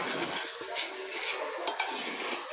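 Roti cooks on a pan with a little mustard oil, a soft close sizzle mixed with light scraping and a couple of small utensil taps, quiet and without talk.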